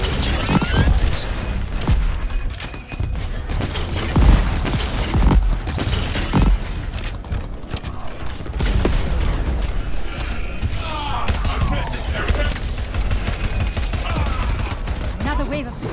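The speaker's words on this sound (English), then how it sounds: "Let those bullets fly." Gunfire in Crackdown 3 crackles in dense, continuous volleys of rapid shots and booms, loud and close, with voices heard over the fighting.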